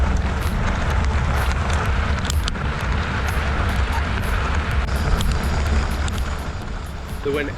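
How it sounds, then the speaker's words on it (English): Strong headwind roars steadily across the microphone during a 25-mile gravel race on a fat bike through sandy fields, a continuous loud buffeting rush with no breaks. "The wind actually picks up"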